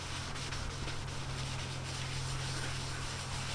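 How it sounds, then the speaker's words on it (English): Rubbing compound being worked by hand over lacquer on a Honda VFR750 part, a continuous close, gritty rubbing and hissing scrape with a low steady hum beneath, no pauses. "This is the rubbing compound. You can hear it."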